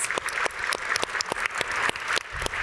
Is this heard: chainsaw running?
no